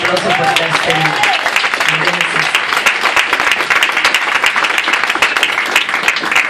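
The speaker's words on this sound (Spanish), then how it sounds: "que dan un aplauso por este señor" A church congregation gives a loud, sustained round of applause for a man, with dense clapping close by and voices calling out early on.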